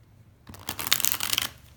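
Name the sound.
shuffling cards for a tarot reading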